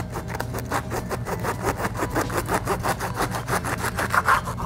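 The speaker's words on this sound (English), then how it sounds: "take your sharp, serrated knife, and you're going to cut off the top of your artichoke" A sharp serrated knife saws through the tough top of an artichoke, making rapid rhythmic rasping strokes close up and continuing steadily without pause.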